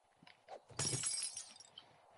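Glass shatters in the 7 Days to Die video game, a single sharp crash that sprays into a bright tinkling burst, with faint scattered clicks before it and debris settling after.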